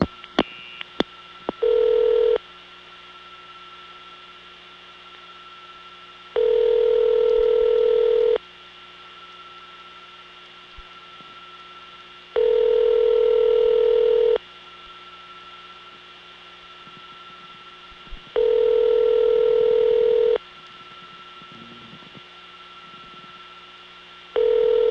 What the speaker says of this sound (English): you'll hear the flash and some bodacious carrier noise that's either long distance type or N3 family that sounds like long distance